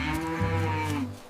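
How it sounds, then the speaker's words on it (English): A cartoon-style cow moo, a single sustained low lowing call about a second long, clear and close with no talk. "The cow says moo."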